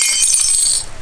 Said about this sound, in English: I just smashed a glass accidentally